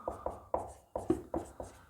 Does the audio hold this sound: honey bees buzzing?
no